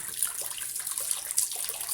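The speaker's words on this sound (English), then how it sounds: "let me go ahead and flush them out." Water rushes steadily from a household faucet with its aerator removed, flushing out built-up debris in a continuous splashing hiss into the sink, close and unbroken, with no voices.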